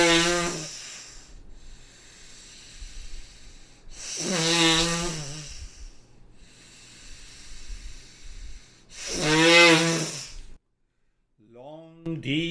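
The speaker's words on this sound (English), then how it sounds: "start breathing long, deep in the hissing from the right nostril" Three long, deep hissing breaths drawn through the right nostril during alternate-nostril breathing practice, each swelling loudly with a rough, snore-like rasp, separated by quieter pauses, close to the microphone.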